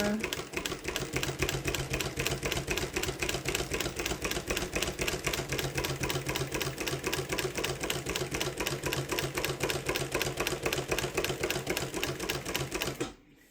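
A Mannan chain stitch embroidery machine stitches the ear of a cat patch, running at a steady rapid mechanical rhythm, loud and close, for nearly the whole stretch before stopping abruptly at the end.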